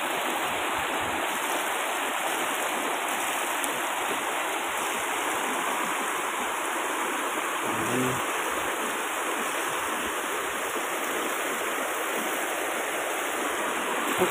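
River water rushing over rocks at a picnic swimming spot, a loud, steady, continuous roar close by, with a brief faint voice partway through.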